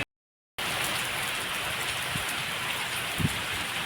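Steady rain falls in a close, even hiss after a brief silent start, with a couple of soft drop impacts near the end and no voices.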